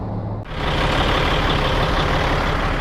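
A Kenworth truck gives off a loud, steady, close-up roar of engine and road noise that starts abruptly and holds for a few seconds, with no voices.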